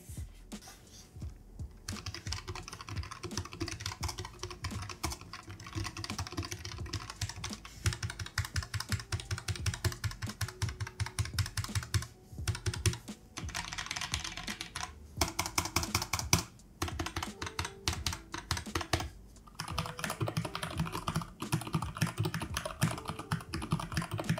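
Continuous typing on a Keychron TKL mechanical keyboard, dense clacky keystrokes in rapid bursts with a few brief pauses, close and fairly loud, no talking.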